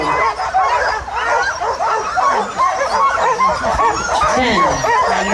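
Many young sled dogs bark and yip excitedly at the start of the Yukon Quest 300 sled race, a loud, dense chorus of overlapping barks that continues without a break.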